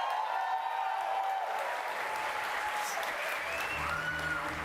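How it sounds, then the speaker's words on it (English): Audience applause at a game-studio presentation on Dead by Daylight, a steady wash of clapping from a crowd that holds evenly throughout, with a faint voice underneath. "Clap her up, clap her up."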